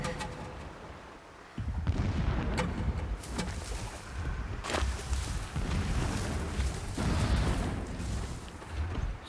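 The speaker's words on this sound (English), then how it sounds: "Explosions in the distance." Distant explosions in the Horizon Zero Dawn video game, heard as repeated deep, rumbling booms that roll in and out under a windy ambient background.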